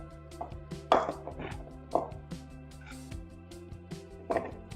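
A knife cuts through firm green banana on a board, making a series of soft, uneven chopping taps close by with short pauses between them.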